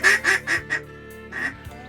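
Ducks quacking in a rapid series of four loud, close calls, then a pause and one more call during a duck hunt, with no talk over them.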